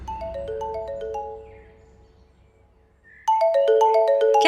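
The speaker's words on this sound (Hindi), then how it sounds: "कौन बार बार फोन कर रहा है?" A mobile phone ringtone plays its melodic tune repeatedly, fading out briefly and then starting again louder and closer, with no voices over it.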